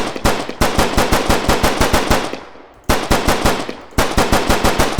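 Rapid automatic weapon fire from a video game in development, steady loud bursts of evenly spaced shots with two short pauses, one where the shots trail off before firing resumes.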